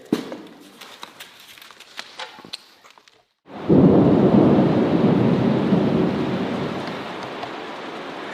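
Quiet scattered clicks, then heavy monsoonal summer rain bursts in with a deep rolling rumble of thunder overhead, steady and loud throughout the rest.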